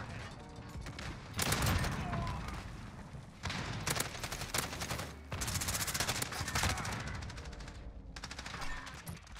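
AK74u gunfire in a first-person shooter match: loud, close bursts of rapid automatic fire broken by short pauses, about four separate volleys with no talk over them.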